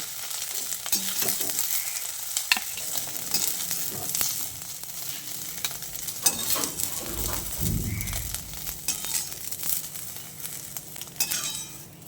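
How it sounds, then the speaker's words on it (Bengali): Soybean chunks fry in mustard oil in a wok for a vegetarian pointed gourd dish, a continuous close sizzle with scattered spatter pops and occasional spatula scrapes, no voices. "আর সয়াবিনটাকে একটু লাল লাল করে ভেজে নেব।"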